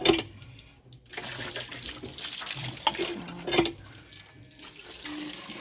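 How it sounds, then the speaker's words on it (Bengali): Water runs from an outdoor tap at a courtyard washing spot in the evening as water is collected, a steady close splashing stream that continues throughout with no talk. "আমি কলতলায় চলে এসেছি এখান থেকে সন্ধে দেওয়ার জলটা নিয়ে নেবো"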